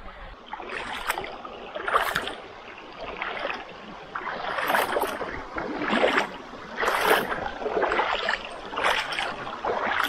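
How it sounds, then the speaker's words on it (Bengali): Steady rushing and splashing of water as people wade barefoot across a cold stream, with uneven surges of sloshing from footsteps, sounding fairly close outdoors. "এখানে সব এখন জুতা টুতা খুলে তারপর হাতে নিয়ে এই স্ট্রিমটুকু পার হয়ে যায়।"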